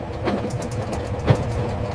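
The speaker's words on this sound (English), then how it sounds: "The train is going 300 kilometers." High-speed train in Japan travelling at around 300 kilometres per hour, heard as a continuous dense rumble and rushing roar, steady and close, with no talking.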